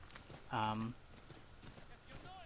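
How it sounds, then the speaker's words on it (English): Horse hooves clip-clop along a snowy winter path in Assassin's Creed 3 Remastered, faint and steady, while a voice briefly speaks over them. "We get to ride horses."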